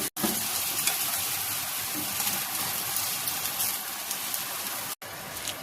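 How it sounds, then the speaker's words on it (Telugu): Soaked rice is added to a hot pan of sautéed mint-rice base and stirred, producing a continuous crackling sizzle with patters like rain on a surface and a brief break near the end, with no talking. "ఇప్పుడు ఇందులో నానబెట్టుకున్న బియ్యం వేసుకుందాం."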